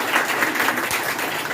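Applause for a teacher at a free computer training certificate distribution ceremony: a dense, steady burst of clapping from a gathered group, fairly loud and continuous throughout.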